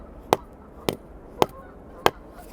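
Mallet strikes on a sap tap being driven into a maple trunk, four crisp knocks at a steady, slightly slower pace, close and alone with no voices.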